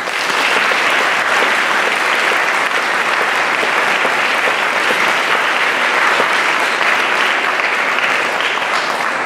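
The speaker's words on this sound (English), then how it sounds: "give a big round of applause for her being with us today" Loud, sustained applause from an audience welcoming a speaker, a dense steady clapping that fills the whole stretch without pause.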